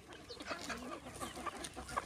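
Free-range desi village chickens on a natural-method farm cluck in short, scattered bursts at moderate distance, with no talk.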